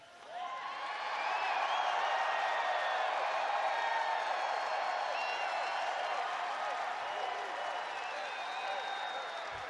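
A packed big arena crowd applauds and cheers continuously, with whoops and whistles rising over a dense wall of clapping that swells and holds steady throughout.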